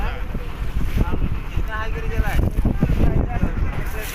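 Strong wind buffets the microphone as a boat crosses a choppy haor wetland in rural Bangladesh, with waves slapping and washing steadily around the hull and voices talking faintly underneath.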